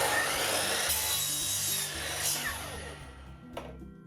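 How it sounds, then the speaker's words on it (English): Miter saw cutting through ABS pipe, a steady loud rasping buzz for a few seconds that eases off near the end, with no one talking. "I then made the cuts on the miter saw."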